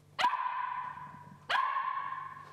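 A shelter-adopted dog gives two loud, close barks about a second and a half apart, each sharp onset trailing into a sustained ringing tone.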